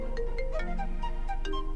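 A phone rings with a melodic electronic ringtone, a bright repeating tune playing at steady volume with no voices.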